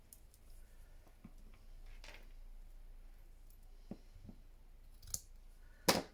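Scissors snip embroidery thread with faint, close clicks spread sparsely over a quiet room, ending in a couple of sharper snips.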